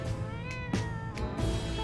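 A cat meows repeatedly in the game 60 Seconds!, several drawn-out, tonal mews over a steady background hum, with a synthetic, game-like quality.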